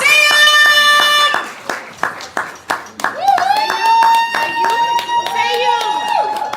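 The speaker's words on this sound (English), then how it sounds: "Keep clapping, keep clapping, keep clapping." Audience at a poetry slam clapping and cheering for a poet, loud bursts of applause mixed with whoops and a host's voice calling out over the crowd.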